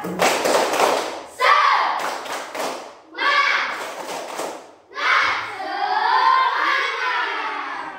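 A group of children in a classroom claps a rhythmic spirit clap, bursts of claps and chanting voices alternating, loud and close.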